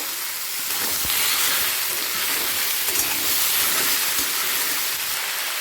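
Vegetables and radish greens fry in hot oil in a pan, a loud, steady, close sizzle and hiss that runs continuously with faint stirring clicks.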